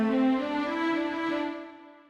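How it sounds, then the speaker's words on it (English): A sustained, close-miked string pad from the Omnisphere software synthesizer's Atmosphere Strings Close sample layer plays alone. One warm chord swells gently and then fades out over about two seconds. "If I turn on A, this is the layer Atmosphere Strings Close A."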